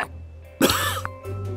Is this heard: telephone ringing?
no